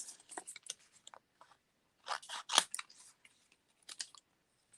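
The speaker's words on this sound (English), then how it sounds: "Now I'm going to get my scissors." Scissors snip through a small piece of heart-stamped paper at a craft table, giving quiet clusters of crisp cuts in short bursts with pauses between, the loudest snip about halfway through.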